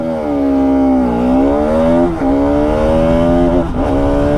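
A Bajaj Pulsar RS200 motorcycle, 2025 model, pulls hard through the gears on a top speed run, its loud, close engine climbing steadily in pitch, with brief dips at each gear shift and no talk.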